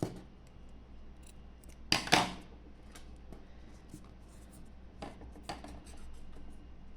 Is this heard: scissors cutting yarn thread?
yes